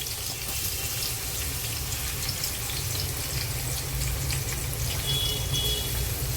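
Onions frying in oil for a korramenu fish curry: a steady, even sizzle and hiss lasting throughout, close and moderately loud, with no voices.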